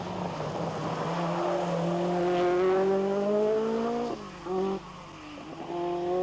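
A rally car races along a tarmac section of a mixed gravel-and-tarmac stage at the 1986 Rally New Zealand, its engine holding a loud, rising howl through the gears, then dropping sharply on a lift-off before revving hard again.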